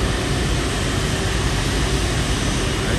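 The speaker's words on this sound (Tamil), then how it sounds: "உங்களுக்கு ரெயின் சவுண்டு கேட்கும்னு நினைக்கிறேன்." Heavy rain pours steadily outside a bus in Vietnam, a dense, even, loud hiss with no breaks through the whole stretch.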